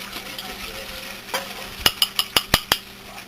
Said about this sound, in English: Just gently pour into the cold liquid and whisk.